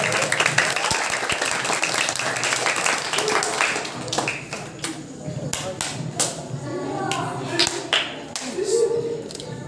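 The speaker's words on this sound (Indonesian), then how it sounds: "Tepuk tangan semuanya dong." Audience clapping at a children's preaching competition, a dense burst of many hands that thins into scattered sharp claps, with crowd voices mixed in.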